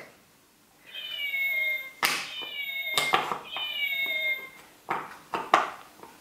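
A cat gives two long, drawn-out meows, loud and close. Sharp clacks and knocks are mixed in between and after the meows.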